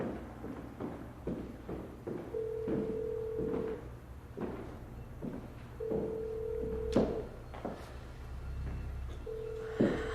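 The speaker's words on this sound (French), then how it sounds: "Je vais appeler Corbeil" A telephone call being dialed and ringing: a series of rapid dial presses followed by repeated ring tones at regular intervals, with a sharp knock or click between them and no speech.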